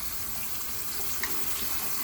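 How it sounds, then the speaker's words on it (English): Hot water runs from a tap over a set of dentures being rinsed, a steady close splashing flow with no voices. "We're running these under hot water right now"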